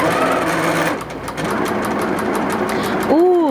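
A freshly oiled sewing machine runs steadily with no bobbin installed, a continuous close mechanical whir and rapid clatter, with a brief voice near the end.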